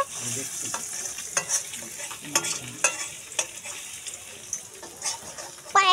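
An egg omelette fries in a pan with a steady hiss of sizzling, broken by repeated scraping taps as it is stirred and flipped, and faint voices in the background.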